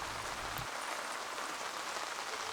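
Rain falls steadily during car camping, an even, close hiss of drops pattering on a surface throughout, with a low rumble that cuts off early.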